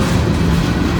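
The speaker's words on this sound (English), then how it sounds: "Train came through Covington up by Cincinnati" A street-running train passes through La Grange, Kentucky, on a dreary day, giving a loud, close, steady rumble of rolling wagons over a brief moment.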